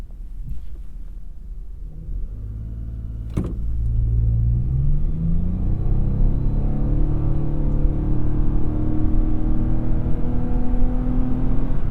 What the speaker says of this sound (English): Let's get a little launch in.